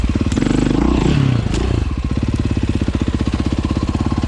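A dirt bike on a rocky hill climb revs hard with clattering over stones, then the engine eases off into a rapid, even low putter, loud and close throughout.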